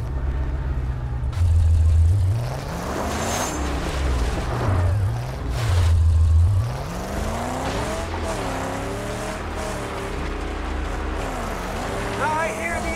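A car engine in the game Mad Max revs and roars with skidding tires, a rough rattling exhaust under it, while a voice talks over the action.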